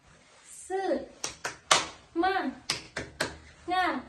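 Schoolchildren in a fourth-grade classroom clap a 'tepuk semangat' chant in rhythm, mixing sung syllables with sharp clap bursts, fairly close.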